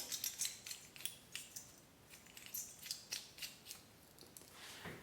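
Small metal parts of a Parker 78R safety razor handle click and scrape as they are screwed back together, a run of quick, crisp, close ticks at low volume.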